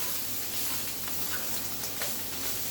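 A steady, soft crackling sizzle of steak frying in a hot pan on a stovetop, continuous and close with no voices.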